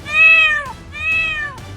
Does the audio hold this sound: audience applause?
no